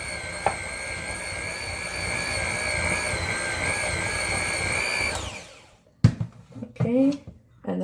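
An electric hand mixer whirs steadily through chocolate chip cookie dough in a bowl, a close, high-pitched motor whine that winds down and stops, followed by a brief clatter and a voice.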